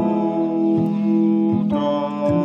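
A keyboard plays a Ghanaian gospel highlife chord progression in F, sustained chords changing every second or so, clear and upfront with no voices.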